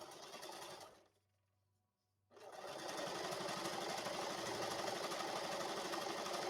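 A sewing machine stitching neon ripstop nylon for saddlebags, a loud steady mechanical whir that stops briefly, leaving near silence, then resumes and runs continuously.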